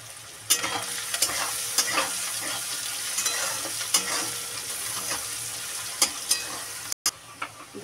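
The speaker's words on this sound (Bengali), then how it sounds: "পেঁয়াজ আর রসুনটা একটু লাল লাল করে ভাজা ভাজা হোক" Onion and garlic fry in a pan with a steady close sizzle, broken by repeated stirring scrapes and clinks all the way through, plus one short dropout near the end.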